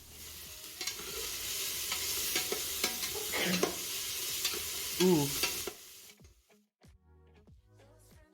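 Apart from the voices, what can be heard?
onions sizzling in a frying pan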